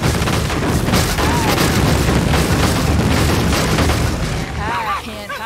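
Explosions in the Mario + Rabbids Sparks of Hope video game, with dense, loud booming blasts filling the scene continuously and voices or game sounds layered over the top.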